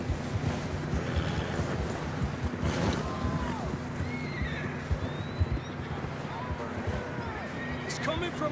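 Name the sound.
horses neighing and hooves in the video game Red Dead Redemption 2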